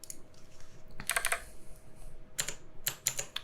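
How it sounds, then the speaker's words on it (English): Quiet bursts of computer keyboard typing, small clusters of rapid key clicks separated by short pauses, close by with a low background hum. "so if I'm like typing something"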